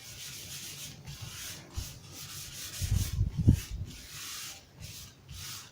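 A rag rubs finish across the grain of a burnt guitar body in a soft, steady scrubbing, with a few louder passes in the middle, close and with no talk.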